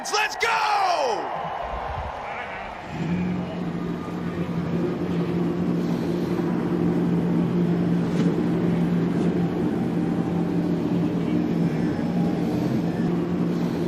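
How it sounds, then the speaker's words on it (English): Race car engines fire up at Las Vegas for the Pennzoil 400 in a NASCAR stop-motion production, building from a brief shout into a loud, steady, sustained rumble of idling engines. "engines begin to fire up here at Las Vegas, here for the Pennzoil 400"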